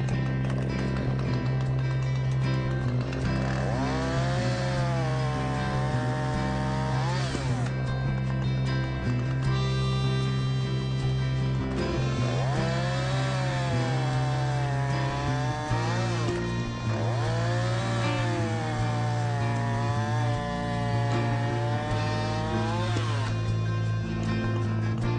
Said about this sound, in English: Let me show you this with a running chain.